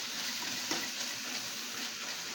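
Onions caramelizing in a hot pan over high heat while being stirred give a steady, close sizzling hiss with one brief scrape near the start.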